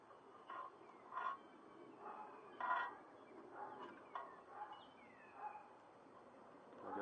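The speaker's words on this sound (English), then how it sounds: "If you hear dogs in the background," Dogs barking in the background outdoors, faint and distant, a scattered series of short yips and barks at irregular intervals over quiet ambient noise.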